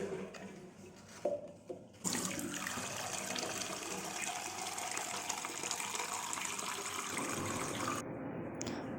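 Tap water gushes steadily for several seconds to change the water of a hydroponic houseplant, preceded by a few small clinks and then cut off abruptly near the end.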